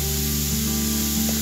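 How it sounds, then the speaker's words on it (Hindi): A household pressure cooker lets off a steady, loud steam whistle with a constant hiss that runs unbroken for the whole moment, with no talking over it. "पीछे कुकर की सीटी बज गई"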